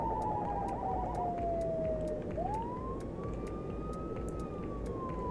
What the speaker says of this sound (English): can we turn on our siren? There we go. Flying ambulance.